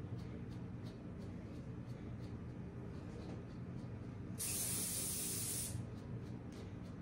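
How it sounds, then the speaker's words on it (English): Hairspray is sprayed onto a show poodle's coat in a single sharp, close hiss lasting about a second and a half, over a low background rumble. "Might do a circle around him when he's fully sprayed up"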